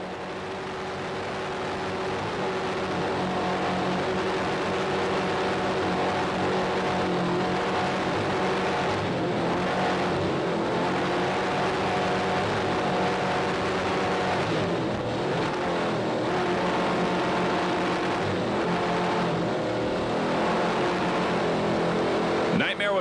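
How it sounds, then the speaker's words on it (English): Offshore racing powerboat engines drone and throttle during the 1995 Key West World Championships race, a continuous rough roar with rising and falling surges that runs under a commentator's voice throughout. "Nice throttling job there, Richie Sapullo."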